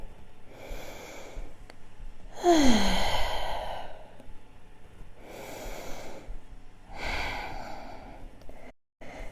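Several slow, audible breaths are let out through the mouth during a yoga core session, soft airy exhales that come in a relaxed rhythm with quiet gaps between them.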